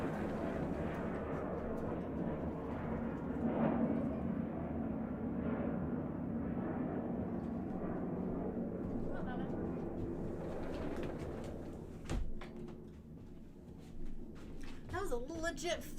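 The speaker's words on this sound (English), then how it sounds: "That was a legit fighter jet." A fighter jet flies low over a house, producing a loud, continuous roar that swells and lingers for several seconds before fading, followed by quieter room sounds.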